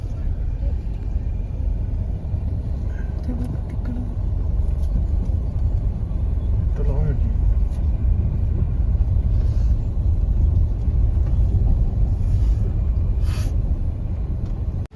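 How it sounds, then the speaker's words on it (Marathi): Cars pull into a crowded parking area, a steady low engine rumble running through the whole stretch with people talking close by over it. "गाड्या आल्या खूप गर्दी आहे, पाहू शकता गाड्या"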